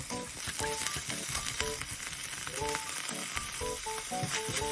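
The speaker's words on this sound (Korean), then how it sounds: "대파 기름 향이 올라올 때 참치를 넣고 볶습니다." Tuna stir-frying in sesame and green onion oil in a pan makes a steady, close sizzle, broken by frequent quick clinks and scrapes of a utensil against the pan.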